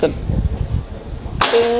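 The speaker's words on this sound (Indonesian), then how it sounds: "kita coba tembakan pertama" After some low rumbling handling noise, one sharp PCP air rifle shot cracks out close by, followed by a brief ringing tail.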